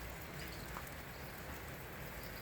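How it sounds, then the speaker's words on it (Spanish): Steady rain falling outdoors on a cloudy day near cabins, a faint even hiss of drops with no talking. "Así se puso el día. Con la lluvia."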